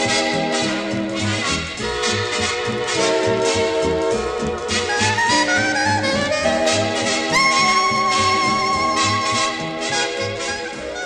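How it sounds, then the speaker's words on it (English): A scratchy old swing-era big band recording from the 1930s plays continuously and loudly, with dense layered horns and rhythm throughout and no talking. "This is the sound of the 30s, the sound of the swing era."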